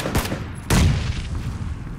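Grenade detonating in PUBG, a sharp thud followed by a heavier, louder blast with a rumbling low tail, close by and mostly free of talk.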